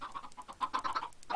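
Chicken clucking from the Minecraft video game, a steady run of short repeated clucks at moderate volume, with no voices over it.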